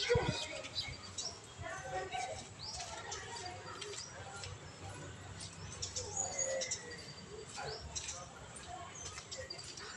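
A bird calls in short chirps against outdoor background noise, with a person talking nearby at moderate volume.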